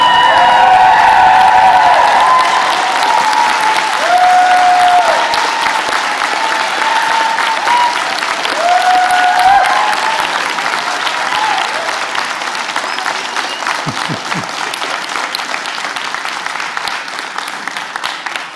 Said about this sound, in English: I want you to stand up, I want you to cheer, hoot and holler, clap